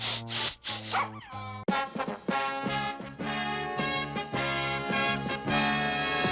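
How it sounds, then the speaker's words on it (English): A cartoon dog yips and barks in short repeated bursts over a loud, busy animated-show music score, the barks fairly near but partly buried in the music. "Go away, dog."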